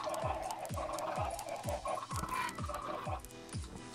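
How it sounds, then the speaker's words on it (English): Chickens in Minecraft take hits in a steady run of about seven short, evenly spaced squawking thuds, close and clear over a low background. "Stop killing the chickens."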